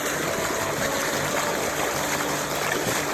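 Water gushes steadily out of the 2-inch discharge pipe of a PowerHorse semi trash pump, a loud, continuous broadband rush and splash heard up close with no break.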